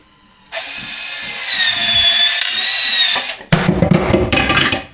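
Loud Milwaukee power shears whir and whine as they cut, then end in harsh rattling and crunching. Close and alone, with no voices.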